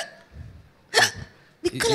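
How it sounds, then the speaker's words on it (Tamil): Two sharp, abrupt hiccups from a man during a Tamil stage comedy act, close and distinct, with a short pause between them. "விக்கல் எடுத்தார்."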